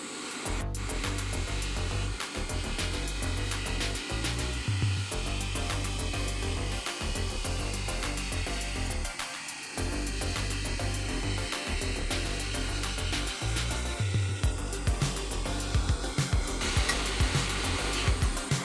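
A hot air rework station set to 400 °C at full airflow works on a ZX Spectrum repair, giving a steady, loud broadband blowing hiss that runs almost unbroken, with a few brief dips.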